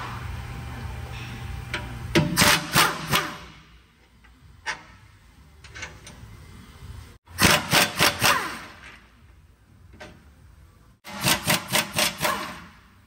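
Transmission cross member 21 mm bolts being removed on a Chevy Silverado during rear main seal work; three bursts of rapid rattling impact-gun hammering, close and loud, separated by quieter pauses.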